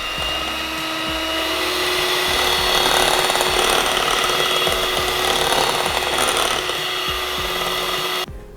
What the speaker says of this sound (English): I'm going to start whisking it, and I'm going to whisk it at about medium speed.